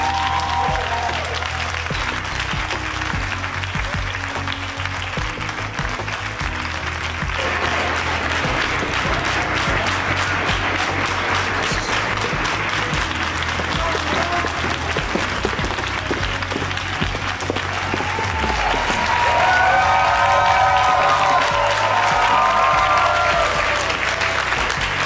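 Audience at a televised talent show breaks into sustained, dense applause that stays loud and steady, swelling slightly toward the end, with faint music underneath.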